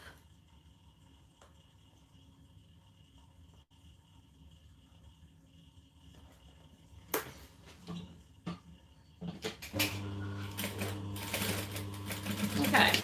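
A sewing machine stitches the pocket panel of a business bag, quiet at first and then whirring loudly in a steady run toward the end, with a voice talking softly over it.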